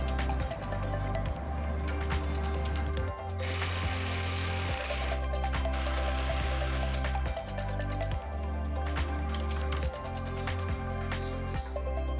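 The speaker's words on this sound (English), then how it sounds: "The last thing I will do is to cut these 4 ribs." A small power tool cuts four ribs of a model, buzzing in repeated bursts with ratcheting, gear-like mechanical chatter and short pauses between the cuts.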